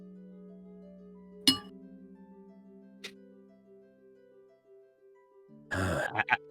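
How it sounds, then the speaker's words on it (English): Glass shakes and clinks as a sound effect in a Minecraft-style game: a sharp clink, a second lighter one, then a brief rattling burst near the end over a steady low tonal drone. "I like this sudden glass shake. That was the perfect sound effect."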